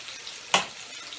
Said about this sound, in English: I got some onions and stuff cut up in this liver that I'm frying